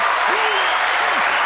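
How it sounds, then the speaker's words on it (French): A canned applause sound effect plays during a French-language podcast, a steady hiss of clapping heard under a short vocal sound. "Veux-tu que je mette des applaudissements?"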